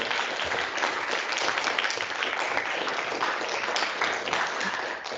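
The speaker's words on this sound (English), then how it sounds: "Can I have everybody's great applause for our amazing guest?" An audience applauds a guest speaker after an industry talk, with dense, sustained clapping throughout at an even, fairly loud level.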